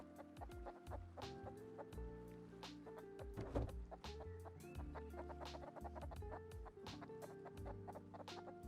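Chickens cluck continuously in a steady, busy chatter, with short clicking sounds and a faint musical backdrop, in the video game Rust.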